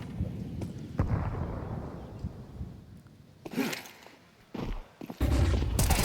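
Gunfire in Counter-Strike 2 rings out as a few sharp, loud bursts with quieter stretches between them, under a busy match soundscape.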